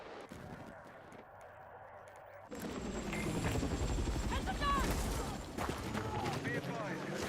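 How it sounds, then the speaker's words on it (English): Transport helicopters in the video game Battlefield 6, a rotor drone swelling in at once after a quiet start and holding steady, mixed with scattered gunfire and battle noise; a voice speaks under it. "Transport helicopters confirmed."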